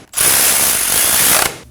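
A ratchet snugs the caliper bracket bolts on a front brake of a 2017-2024 Nissan Armada, one continuous loud, rapid clicking run lasting just over a second, very close.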